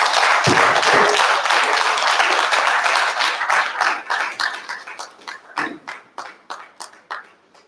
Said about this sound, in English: Let's give another round of applause for the Honorable Minister.